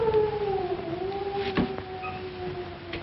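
A long, wavering howl in the dark in a 1941 film, a single sustained, gliding wail heard fairly close over faint background hiss.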